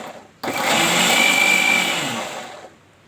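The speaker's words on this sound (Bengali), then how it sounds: "এই তো সব দেওয়া হয়ে গেছে, এখন ব্লেন্ডার করে নেব।" An electric blender whirs at full speed, loud and steady for about two seconds, as it blends pineapple with salt for juice, then winds down.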